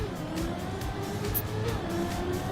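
A race car runs in the Trackmania driving game with a continuous engine drone and road rumble, mid-level and steady, with slight pitch shifts as it speeds along.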